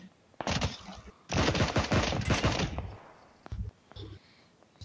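Rapid automatic gunfire from a Tommy gun in an online shooter game, two loud dense bursts close up, followed by quieter scattered shots.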